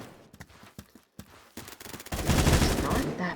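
Honey Badger rifle firing in a video game, a loose series of shots early that build into dense, loud continuous automatic fire in the last second and a half, with voices and game noise under it.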